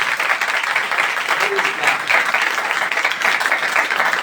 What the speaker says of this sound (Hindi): जोरदार तालियां बजा दीजिए मेरे खुदा के लिए